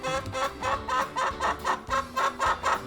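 Hens cluck close by in a steady, rhythmic run of loud, throaty calls repeated about every third of a second.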